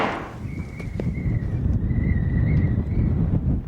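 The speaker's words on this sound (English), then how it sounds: "Windy up here, but not down there." Low, rumbling wind buffets the microphone steadily at the top of a ski jump, with a faint thin whistle running through it.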